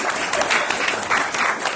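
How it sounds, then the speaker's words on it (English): Church congregation applauding during a Sunday service, a brief burst of many hands clapping, dense and fairly close. "So we got a little round of applause for Cahill and Delene."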